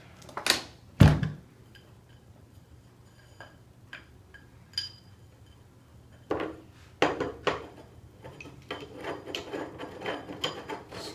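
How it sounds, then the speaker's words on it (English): The hard case of an outdoor sound monitoring kit being closed, with a couple of loud clacks at the start and a series of lighter clicks, latches and rattles following, close up with no talk. "And close the case."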